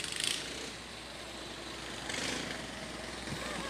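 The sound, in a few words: roar of a parade vehicle's engine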